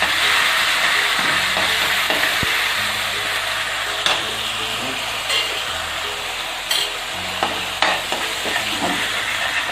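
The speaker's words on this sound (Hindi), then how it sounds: "अब हम अदरक, लहसुन और प्याज की पेस्ट को भूनेंगे" Ginger, garlic and onion paste fries on medium flame in a pan with oil, a steady close sizzle under repeated scraping stirs and occasional knocks of the spoon against the pan.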